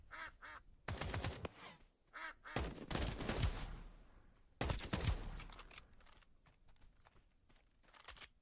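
Ducks quack in rapid repeated bursts, broken up by loud volleys of gunfire, in the shooter game Escape from Duckov, with no talk.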